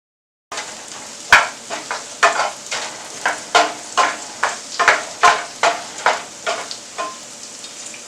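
Celery and broccoli pieces being stir-fried in a pan: a steady sizzle broken by a run of regular scraping stirs, about one every half second, loud and close with no talk.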